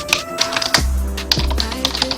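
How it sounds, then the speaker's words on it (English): Fast typing on a computer keyboard, rapid close-up clicks and clacks with a few heavier keystrokes, alone with no talking. "Quick typing"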